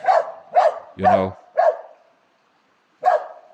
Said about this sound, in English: The dogs see another dog going by the river or a cat, and they are, of course, barking.